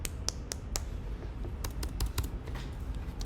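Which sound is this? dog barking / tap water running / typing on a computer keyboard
typing on a computer keyboard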